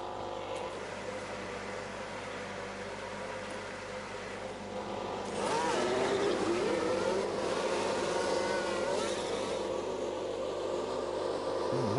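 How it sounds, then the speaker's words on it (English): Formula 1 race car engines from the F1 Manager 22 video game hum and drone steadily at a moderate distance, growing louder midway as more cars head out at Paul Ricard, with a low, buzzing tone throughout. "Lots of cars heading out very early here at the session."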